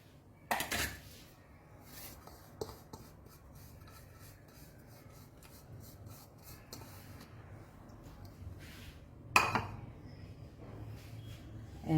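Dough ingredients for eggless hot cross buns are stirred in a bowl, with faint scraping and rubbing punctuated by a few louder clinks of utensil against the bowl, close and quiet.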